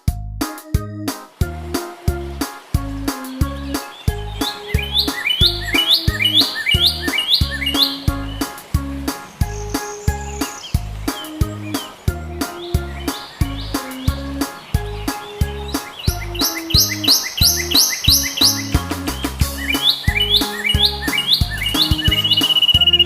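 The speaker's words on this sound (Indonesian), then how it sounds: "kicau burung di pagi hari." Morning birdsong in a garden: repeated bright chirps and tweets from several birds, close and clear, layered over a steady rhythmic pulsing background that continues throughout.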